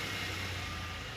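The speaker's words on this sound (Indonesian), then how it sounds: "itu bunyi truk lewat" A truck passes nearby with a steady engine rumble and a thin tonal whine over a continuous wash of road noise, holding even throughout, with no voices.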